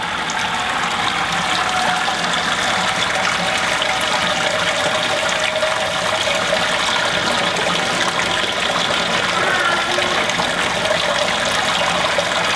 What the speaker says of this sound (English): I'm going to let this drain out, and then after this drains out I'm going to sparge it with my sparge water